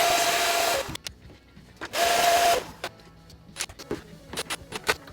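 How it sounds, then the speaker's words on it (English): Vacuum cleaner nozzle sucking dust off a Daytona 2 arcade circuit board, two loud broadband whooshing bursts of about a second each, separated by sharp clicks and knocks as the nozzle bumps the board. "I'm just going to quickly give it a vac again and make sure there's no nasty dust."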